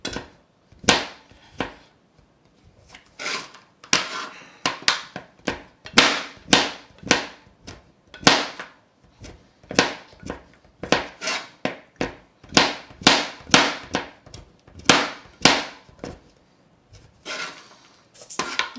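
A sharp knife chops homemade waterproof wax tinder on a hard surface in a long series of crisp, close, irregularly spaced thuds and clacks, with no talking.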